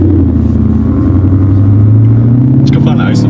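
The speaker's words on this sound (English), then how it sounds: "We're driving cautiously in a neighborhood." A sports car rolls slowly and cautiously through a residential neighborhood, its engine giving a steady, close low rumble that rises slightly toward the end, with voices inside the car over it.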